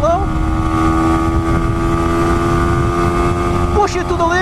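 A Yamaha YZF-R125 motorcycle on a test ride, its engine droning loud and steady under heavy wind rush, with a brief rev change near the end; someone talks over it.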